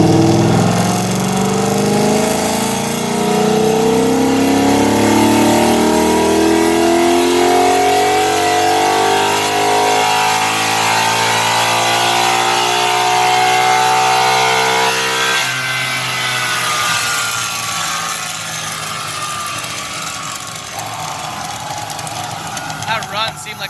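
A 2012 Mustang GT with a Cobra Jet intake and TR6060 transmission on a dyno in fourth gear, pulling a long, loud rising wide-open run that climbs steadily for about fifteen seconds, then lifts off into a winding-down roar.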